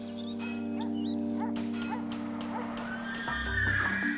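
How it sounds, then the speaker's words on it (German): Horses in a stable used for movement therapy, with repeated close whinnies and neighs over a steady low hum and occasional hoof clatter, and a rising rumble near the end. "Es gibt sogar einen Stall mit vielen Pferden für Bewegungstherapie."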